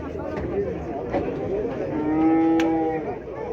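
A cow at the Kyzylorda livestock market lets out one long, loud moo, set against a low murmur of voices and market bustle.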